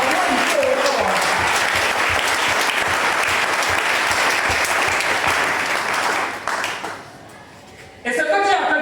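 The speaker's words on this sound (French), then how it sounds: "Quelqu'un peut-il acclamer Jésus?" A church congregation at a Sunday service applauds and cheers for Jesus, sustained loud clapping from a large crowd filling the room for several seconds before dropping off, with voices mixed in.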